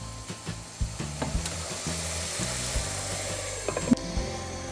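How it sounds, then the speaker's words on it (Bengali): Masala for a coconut duck curry sizzles in a covered pan with some added water, a steady frying hiss broken by repeated dull knocks and clatters close by, with no speech. "এবার আমরা এটাকে ঢাকনা দিয়ে দুই মিনিট কষিয়ে নেব।"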